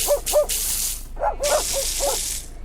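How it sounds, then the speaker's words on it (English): Dog barking in a series of about seven sharp, fairly close barks in quick pairs and clusters over a steady hissing background. "dogs going for their daily walks."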